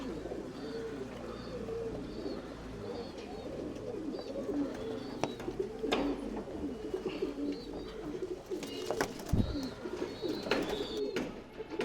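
Tumbler pigeons in a loft coo softly and continuously, several birds overlapping in low murmuring calls, with occasional wing flutters and scuffling clatters nearby and a faint hum underneath.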